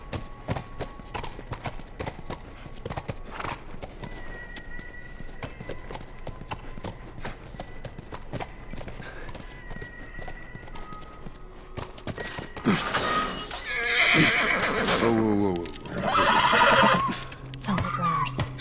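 Steady clip-clop of horse hooves in The Last of Us Remastered, then a loud horse whinny near the end, with a couple of neighs layered over the trotting.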